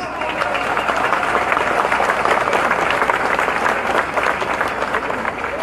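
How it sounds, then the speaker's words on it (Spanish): A large crowd at an outdoor political rally in Guaymas, Sonora applauds loudly and continuously, a thick wash of clapping with crowd noise underneath that stays strong for the whole stretch. "Fuerte el aplauso para el doctor Alfonso Durazo, candidato al Senado por Sonora."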